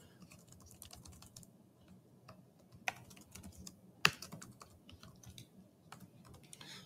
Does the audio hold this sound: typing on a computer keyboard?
yes